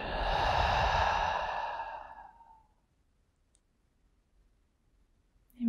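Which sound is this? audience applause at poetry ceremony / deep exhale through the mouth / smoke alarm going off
deep exhale through the mouth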